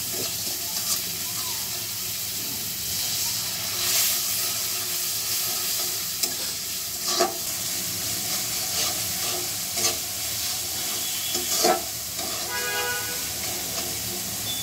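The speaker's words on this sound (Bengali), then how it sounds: "এখন বেশ কিছুক্ষণ ধরে মশলাগুলো কষাতে থাকবো।" Spices for a hilsa fish curry with raw banana sizzle in hot oil while being stirred, a soft continuous frying hiss broken by scattered scrapes and clinks of the spoon against the pan.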